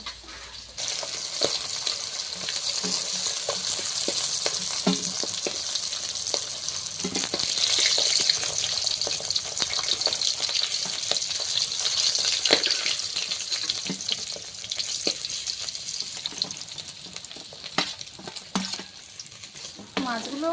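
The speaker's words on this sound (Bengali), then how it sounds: "মাছগুলো ভাজা হয়ে গিয়েছে, এবার এক এক করে তুলে নেব" Rupchanda fish pieces fry in hot oil, a steady sizzle running throughout with scattered clinks and scrapes of a utensil turning and lifting the pieces.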